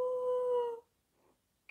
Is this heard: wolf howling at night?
yes